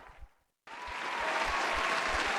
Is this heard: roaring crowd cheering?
yes